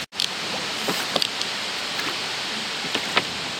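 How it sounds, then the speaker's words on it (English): Heavy rain falls in The Witcher video game as a dense, steady hiss with a few scattered taps and drips, constant and fairly faint, with no voices. "God, it's raining so bad."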